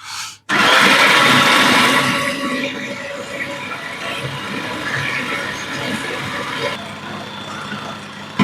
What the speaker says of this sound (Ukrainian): Додаєте олію і збиваєте.